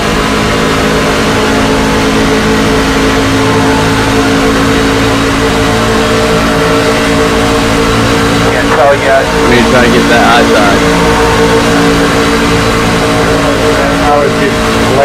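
A race truck engine held high near its 7,800 RPM limiter at Daytona during a Craftsman Truck Series race, a loud, steady, dense drone lasting throughout, with in-car radio talk over it.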